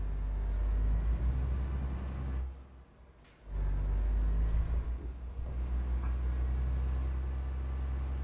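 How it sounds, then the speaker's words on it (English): An old truck engine in Euro Truck Simulator 2 drones steadily at low pitch, briefly dropping away before rumbling back up, with a short hiss like an air brake in between. "It even sounds like an old truck."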